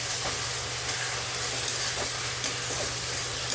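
Onion paste and sliced onions stir-fry in a pan for a chicken masala gravy, a steady, close sizzling hiss broken by occasional light spoon scrapes, with no voices.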